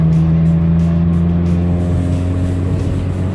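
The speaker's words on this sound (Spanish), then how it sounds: "Suelto el clutch despacito y una vez termino de soltar el clutch, vuelvo al acelerador." A manual-transmission car pulls in third gear from about 40 to 60 km/h during a driving lesson, its engine giving a steady, close, continuous drone with a low hum throughout and no talking.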